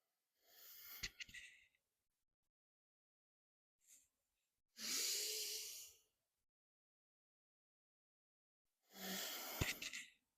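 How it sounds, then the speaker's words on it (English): Slow, breathy exhales and inhales during a calming yoga-style breathing exercise: soft airy rushes of breath, close and quiet, in separate drawn-out bursts with pauses of silence between. "Exhale."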